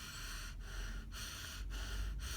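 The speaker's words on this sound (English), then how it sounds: "really short, sharp breaths" Short, sharp, shallow breaths are demonstrated close up in a quick series of about four airy gasps, evenly spaced over a couple of seconds with no speech.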